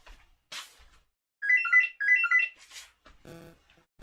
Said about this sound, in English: Just as the phone goes in Studio 1.